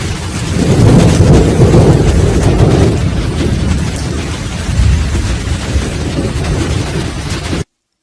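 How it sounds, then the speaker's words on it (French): Storm sound effect of a fierce night thunderstorm: loud, dense rain and wind under continuous low thunder rumbles that swell early, ease, build again, then cut off abruptly. "La tempête et l'orage sont si forts"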